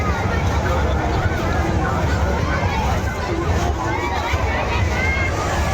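Dense crowd hubbub at a packed village jatra fair around noon, a constant close wash of many overlapping voices with wind buffeting the microphone.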